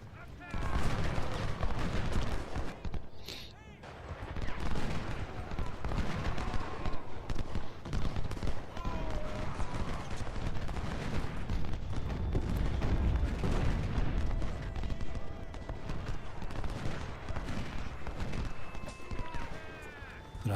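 Artillery and musket fire on the First Bull Run battlefield in Ultimate General: Civil War, a dense, continuous barrage of distant booms and crackling volleys with hoofbeats mixed in.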